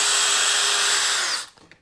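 A power drill spins a motorcycle carburetor float pin against sandpaper, a steady high whine with gritty rubbing that runs loud and close for over a second, then winds down and stops with a few small clicks.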